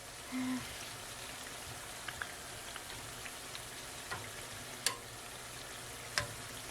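Steady crackling sizzle of beignet dough deep frying in hot oil, with occasional sharper pops and spits over a continuous bubbling hiss.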